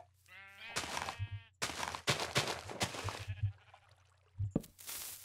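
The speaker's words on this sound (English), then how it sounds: "These sheep love this track." Sheep bleating in Minecraft, several wavering bleats from nearby animals, broken up by sharp bursts of game noise and one short voice.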